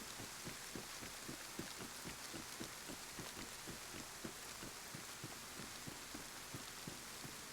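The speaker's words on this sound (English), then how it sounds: "It's raining with no clouds." Steady rainfall in the survival game DayZ patters evenly and softly, with faint regular thumps running underneath, no voices.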